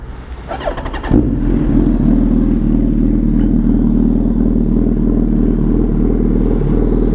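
A 2019 Suzuki Hayabusa sport motorcycle with full exhaust cranks briefly on a cold start, then catches and settles into a loud, close, rumbling idle indoors.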